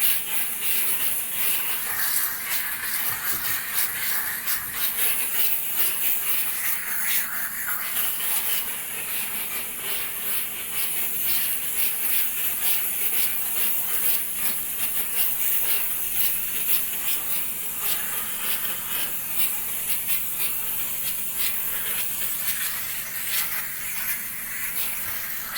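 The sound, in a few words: Chief steamer spraying 125 PSI steam on a salt-covered hood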